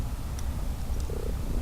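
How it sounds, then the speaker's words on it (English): A pet cat purrs up close with a low, continuous rumbling drone that holds steady throughout, with no voices. "You hear him purring."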